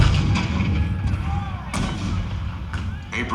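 Cannon fire in a Fort Sumter Civil War show, a few heavy booms rising over a dense, steady din of music and effects, loud and close throughout.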